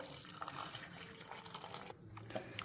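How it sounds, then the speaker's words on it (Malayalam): Hot water pours into a pot of sambar, a soft continuous trickle and splash, quiet and close, with a brief dip midway and no speech. "വെള്ളം ഒഴിക്കുവാണ് ഞാൻ ചൂടുവെള്ളമാണ് ഒഴിച്ചു കൊടുക്കുന്നത്"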